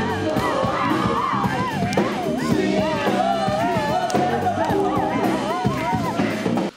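Children cheer, whoop and shout as a lively crowd at a school rock history concert, where kids dance and clap; the loud, continuous audience noise runs over amplified music throughout.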